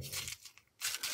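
Craft material is crinkled and torn by hand close up, two short bursts of dry crackling separated by a brief quiet gap, fairly faint.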